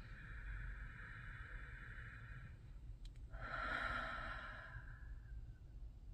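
A person takes a deep breath low into the belly, a slow airy inhale followed by a louder, longer exhale, close and alone.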